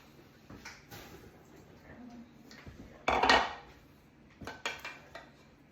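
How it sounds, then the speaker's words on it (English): Celery pieces splash and clatter into a metal pot of boiling chicken with a loud burst midway, followed by a few lighter knocks and clinks. "we're going to go ahead and throw these in our pot with our chicken we have boiling"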